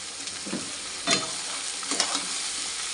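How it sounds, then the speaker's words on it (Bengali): Onion, capsicum and tomato sizzle and fry in a kadai, a steady hiss broken by a few louder stirring scrapes, close and without talk. "এবার এই যে কড়াইতে পেঁয়াজ, ক্যাপসিকাম, টমেটো সব কিছু ভেজে নেব।"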